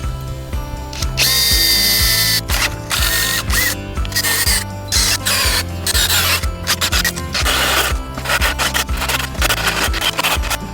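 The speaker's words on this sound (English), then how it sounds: "so it's going to take a while to drill a hole through." A power drill grinds steadily into inch-thick sheet metal, a loud continuous whine with rhythmic scraping and ratcheting, no voices.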